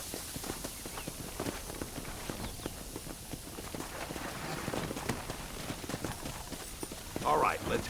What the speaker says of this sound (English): Come on, horses are over here.